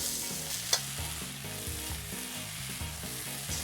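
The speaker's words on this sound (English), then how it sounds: "I'm going to start frying some green onions, and followed by the ginger." Green onions and ginger sizzle and crackle in hot oil, with a steady frying hiss and the scrape of a utensil stirring the pan, up close.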